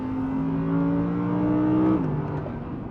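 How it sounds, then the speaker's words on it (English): Audi R8 RWD with its V10 engine, shared with the Lamborghini Gallardo, revving steadily from inside the cabin, a rising harmonic drone held for about two seconds before the pitch drops as revs fall. "That is one of the all-time great engines."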